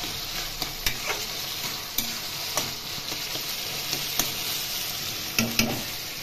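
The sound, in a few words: stirring taro leaves (kochu shak) in a frying pan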